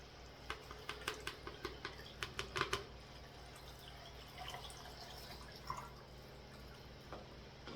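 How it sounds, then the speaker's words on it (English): Lime water is poured over eggs in a container, giving a faint close trickle with a quick run of small drips and splashes early on, then quieter intermittent liquid sounds. "Now some people will just pour their lime into the water."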